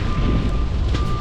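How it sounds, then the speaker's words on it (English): Strong wind roars steadily and close, buffeting the microphone with heavy low rumble throughout, alongside a faint constant high tone. "It's a windy enough day out here"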